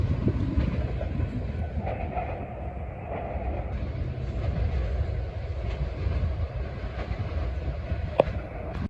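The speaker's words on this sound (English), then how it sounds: "You can actually see and hear the train from here." A train passes near Edmond, Oklahoma with a steady low rumble and faint clattering of wheels, heard from a short distance, with a brief click near the end.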